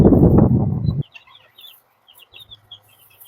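A loud voice ends abruptly, then small ten-day-old Cheongye chicks peep and chirp in short high bursts, with soft clucking and a faint low hum underneath.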